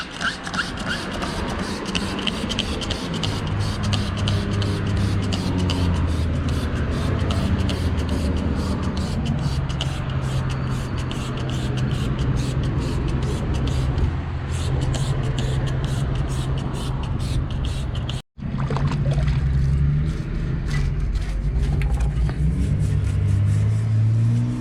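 A Giant Glory downhill mountain bike gets washed down with Muc-Off cleaner, a long, steady hiss of spraying water with rapid clicking and rattling, briefly cut off once before resuming.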